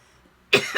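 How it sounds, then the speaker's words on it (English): After a quiet moment, a person gives two quick, close coughs with a rough, throaty edge. "I'm going to have either clearing my throat or coughing while I do a video"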